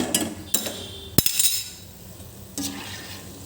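A metal spoon clinks and scrapes in a pan of sugar syrup as gulab jamuns are stirred, giving a few sharp taps amid a soft, wet background.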